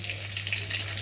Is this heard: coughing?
no